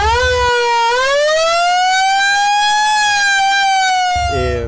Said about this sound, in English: The sirens and the lights all work.